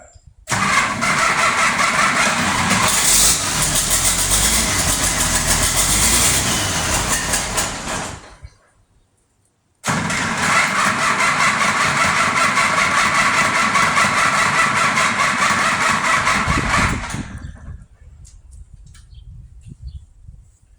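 An IH 5288 tractor engine cranks and fires after an engine swap, roaring loudly and steadily close by, cutting out, then cranking and running again before dropping away.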